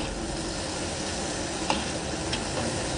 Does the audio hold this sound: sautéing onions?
yes